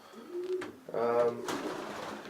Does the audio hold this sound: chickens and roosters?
no